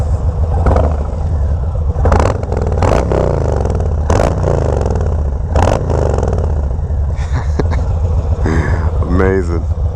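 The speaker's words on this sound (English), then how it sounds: "I'm gonna give a little test sound of what the bike sounds with the pipes on right now" A 2020 Harley-Davidson Low Rider S fitted with new exhaust pipes revs up close and loud. Repeated throttle blips rise over a deep, continuous rumble and clattery idle.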